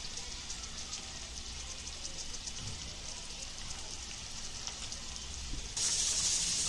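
Onions fry with salt in a pan, giving a steady, even sizzle like light rain that hisses close up and gets slightly louder and brighter near the end.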